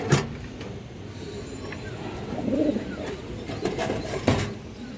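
Male racing pigeon coos in a few soft, low bursts amid steady background rumble, with brief louder knocks near the start and end.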